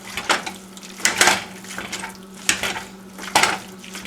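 A potato masher squishes and breaks up taco meat in a pan in a home kitchen, giving several distinct clanks and squelchy scrapes at irregular intervals, close up, with no talk.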